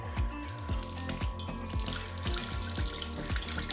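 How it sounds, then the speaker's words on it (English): Hot water splashes steadily from a Ninja Slushi during its rinse cycle into a crock pot, a close, continuous pour with a faint rhythmic gurgle and pulsing spurts. "It starts spitting it out for you, and you slowly dispense into a large container."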